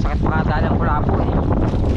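Strong north wind roars and buffets a fishing boat at sea, a dense, loud, continuous rush with no clear voices.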